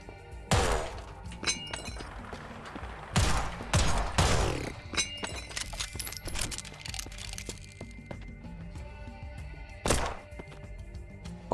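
Gunfire in the cyberpunk western roguelike shooter Dust & Neon: loud, punchy shots in scattered bursts, with breaking and shattering impacts and clinks around them, against a continuous game background.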